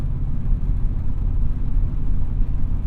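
An Oldsmobile Cutlass Supreme 442 engine rumbles steadily from inside the moving car, a low truck-like droning whir with road noise and no talking.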